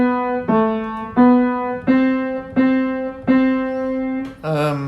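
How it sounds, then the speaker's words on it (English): Mary Had a Little Lamb plays as a clear sung or instrumental melody, seven separate sustained notes in a steady rhythm, close and alone. "This makes our Mary Had a Little Lamb sounds like this."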